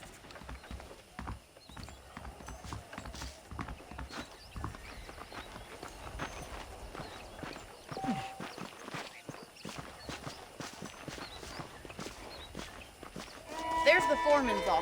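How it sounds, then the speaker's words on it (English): Horse hooves clip-clop at a walking pace in Red Dead Redemption, steady overlapping hoofbeats with faint creaks of tack, continuing throughout at moderate volume. Voices come in alongside, and the sound swells a little near the end. "The horses are saddled up over here."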